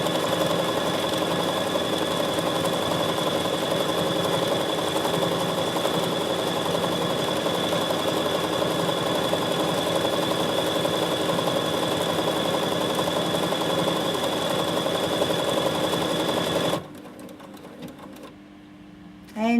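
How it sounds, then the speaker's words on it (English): A Bernina 7 Series sewing machine runs a long straight line of stitching, a steady close whirring hum with rapid needle ticking that stops abruptly near the end, with someone talking over it. "So this time I'm going to try and sew straight by watching this left-hand side."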